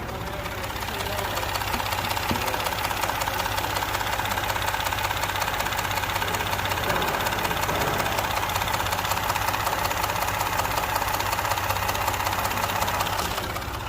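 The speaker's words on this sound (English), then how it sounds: "This is what bad cam phasers sound like." A 2018 Ford F150 engine idling with bad cam phasers, giving a steady, diesel-like clattering rattle that runs continuously at close range with no talking.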